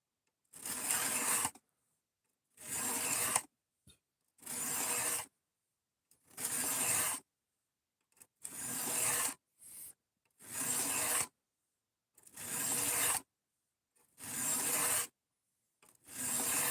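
A blade being hand sharpened with repeated rhythmic strokes, about nine rasping scrapes each lasting a second or so, separated by short silent pauses, close and clear with no talking.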